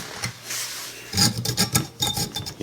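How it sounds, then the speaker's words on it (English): A regular hacksaw cuts through a metal bracket for a stainless steel cooling fan shroud on a DeLorean. A few quiet scrapes are followed by a run of quick, close, rasping strokes, with no voices. "you can easily just take a regular hacksaw and just"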